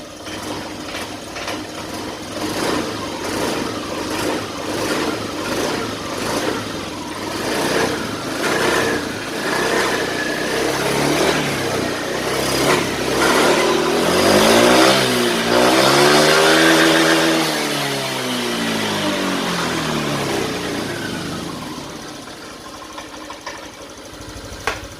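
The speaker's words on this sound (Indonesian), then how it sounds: "saya akan coba untuk gas motornya, apakah ada yang bermasalah" A Honda Vario 125 scooter with a repaired radiator leak runs steadily close by, its engine rising in a long rev and falling back toward idle.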